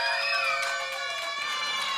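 An audience of children and adults at a Wednesday evening church Bible study screams and cheers together, a high, shrill, sustained roar that stays loud throughout.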